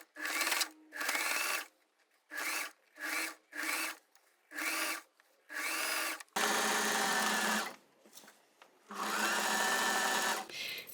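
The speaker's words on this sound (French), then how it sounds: "Et là, on va coudre tout doucement tout le long comme ça," A sewing machine slowly stitches along the edge of a shirt dress in short separate runs of even whirring, followed by two longer, louder bursts of stitching near the end, with no talking.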